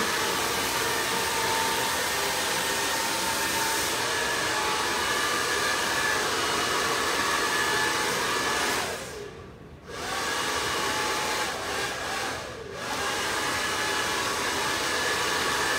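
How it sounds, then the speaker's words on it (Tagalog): A hair dryer blows steadily and loudly during a long layered haircut, its broad whoosh dipping briefly twice as the airflow is moved or paused. "yung ating hair blower"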